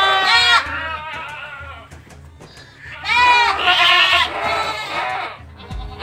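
Young Boer goat kids bleat in a farm pen in Blitar, with loud wavering cries in two main bursts, near and clear, amid some low background voices.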